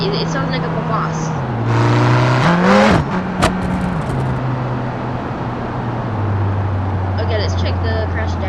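Supercharged Jaguar CX75 engine in the BeamNG driving game, a steady idle that surges into a short loud rev with a whining rise, then settles back to a lower drone, while a person talks.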